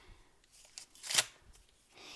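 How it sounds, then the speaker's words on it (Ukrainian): A small collectible blind packet being torn open by hand, soft crinkling and rustling with one sharp tearing rip in the middle, close and quiet. "Так, відкриваємо наш пакетик."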